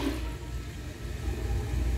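A New Pressure Lite pressure-assisted toilet flushes ketchup down with a loud, steady rushing roar of water, close by and continuous without any talk.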